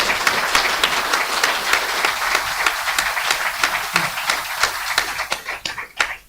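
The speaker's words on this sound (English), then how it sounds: "give the panel a warm round of applause and welcome Manchester style" Warm audience applause for a panel at a live debate event in Manchester: sustained dense clapping from a crowd, fairly loud and steady, thinning toward the end.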